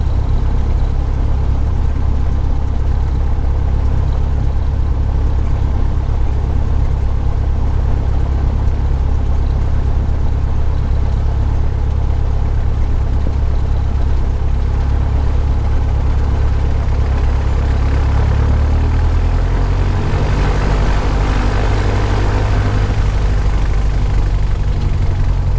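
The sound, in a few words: Cessna 337 aircraft engine run-up before takeoff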